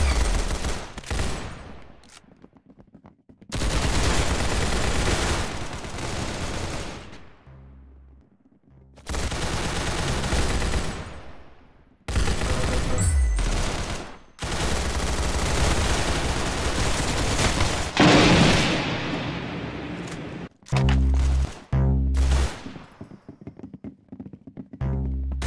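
Gunfire in the Roblox-style shooter game Arsenal, loud rapid bursts of automatic fire in long sustained volleys separated by short silences, with a few single shots and crackly bursts near the end.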